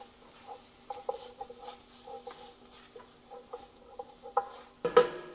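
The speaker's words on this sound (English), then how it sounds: "I'm gonna go ahead and add this ground pork to these vegetables. Get that stirred up." Ground pork being stirred into vegetables in a hot pan, with soft scraping and patter of a utensil through the mixture at a steady rhythm, close and quiet, ending in a louder clatter.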